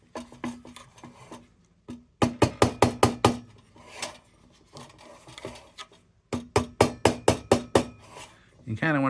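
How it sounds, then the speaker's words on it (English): A soft tip hammer taps in quick bursts of rhythmic blows on the metal of an Embury No. 150 lantern being refurbished, close and crisp, with brief pauses and a quiet voice in between. "Let's take a little hammer to those."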